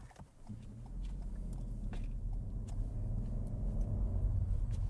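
A car overtaking on a road during a driving test, a steady engine and tyre rumble that builds gradually and stays close, with no talking.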